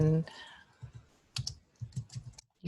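Keys clatter on a computer keyboard during an Excel formulas demo, a quick run of light, irregular taps following a brief voice, close and fairly quiet.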